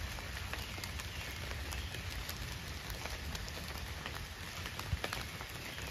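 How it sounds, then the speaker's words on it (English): Raindrops falling through a forest canopy make a steady, dense patter with scattered sharper drips, moderately loud and continuous without any voices. "Those are raindrops you see falling."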